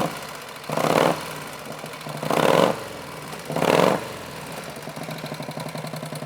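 Harley-Davidson Panhead motorcycle engine idling after being kick-started with no throttle, a steady low-pitched running note broken by three loud, evenly spaced surges that swell and fall back, close to the microphone with no talking.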